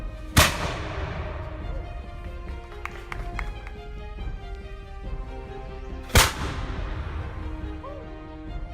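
Two loud, sharp blasts from a two-foot bronze swivel gun fired at a battlefield dedication ceremony outdoors, spaced several seconds apart, each with a long rumbling echo over a low background murmur.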